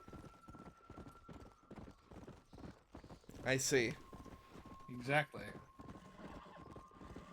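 Horse hooves clip-clop steadily in Red Dead Redemption: Undead Nightmare, joined by two loud whinnies midway, while characters exchange brief words over the walking rhythm.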